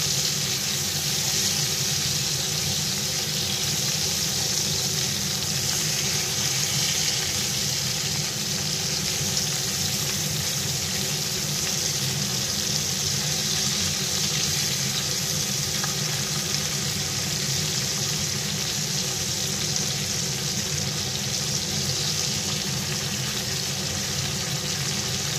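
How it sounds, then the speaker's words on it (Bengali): Hilsa fish pieces fry in oil, a dense continuous sizzle that stays loud and even throughout, with no voices. "দেখো বন্ধুরা, মাছটা খুব সুন্দর ভাজা হয়েছে।"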